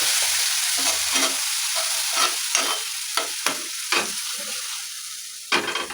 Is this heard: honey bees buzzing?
no